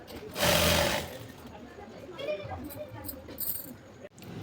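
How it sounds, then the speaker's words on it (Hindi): Sewing machine stitching palazzo pants, a loud burst of motor whir near the start, then quieter intermittent stitching and handling noise in a small room. "पूरा सिलाई लगा के हम ले लेंगे। इस तरह से घुमाते जाएंगे और लगाते जाएंगे।"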